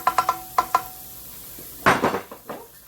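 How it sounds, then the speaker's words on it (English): Something sautéing in a pan for a creamy lemon garlic chicken and shrimp dish, several sharp metallic clinks of a utensil on the pan, then a burst of scraping stirs over a light sizzle. "we're going to saute this off a little bit"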